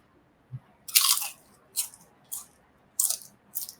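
Close, crisp crunches of someone biting and chewing a crunchy fried buffalo-wing-flavored chicken skin snack, five or six sharp bursts in an uneven rhythm with quiet pauses between.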